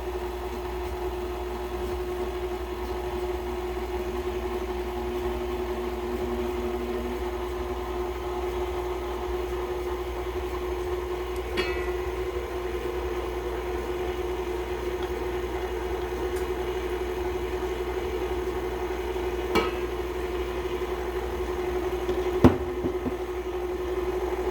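Stand mixer running steadily on low while cake batter for an olive loaf is mixed, a continuous even motor hum through the whole stretch with a few faint clicks and taps.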